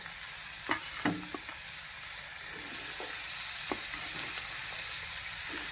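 Boiled cluster beans drop into a hot pan in a village kitchen and sizzle in a steady close hiss, broken by a few sharp scraping clatters of stirring, with no talking.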